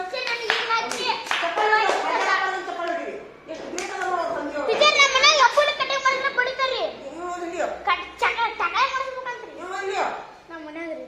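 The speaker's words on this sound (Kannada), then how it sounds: "ಚಪ್ಪಾಳೆ ಹೊಡಿರಿ ಚಪ್ಪಾಳೆ" Children clap their hands in a lively, uneven burst that runs throughout, mixed with constant chatter and kids' voices talking and calling over the applause.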